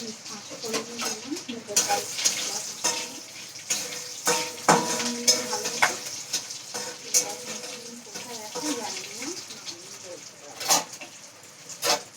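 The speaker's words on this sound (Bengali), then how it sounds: "কেউ জিরে ফোড়ন দেয় কেউ পাঁচ ফোড়ন দেয়" Whole spices such as cumin or five-spice mix temper in hot oil in a home kitchen pan, giving a steady light sizzle broken by clinks and scrapes of utensils against cookware.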